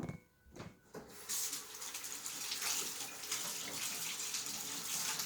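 A kitchen tap running steadily while hands are washed, a broad constant rush of water close by that starts after a short thud and continues alone.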